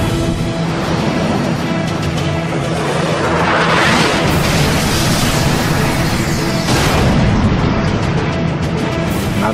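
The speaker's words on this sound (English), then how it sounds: "The missile streaks toward the MiG at twice the speed of sound and plows through the MiG's right wing." Missile detonating as it plows through the right wing of a MiG jet: a loud, sustained roaring blast with rolling booms and crackling bursts, dense and close, swelling around the middle and again near the end.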